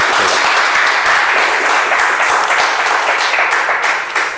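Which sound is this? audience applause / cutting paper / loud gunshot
audience applause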